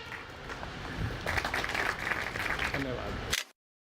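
An audience at a televised farmers' forum breaks into a dense patter of clapping that builds and holds steadily, then cuts off abruptly.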